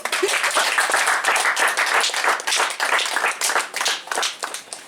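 Congregation applauding during a church service, a dense burst of many hands clapping close by with uneven rhythm, swelling and easing over several seconds.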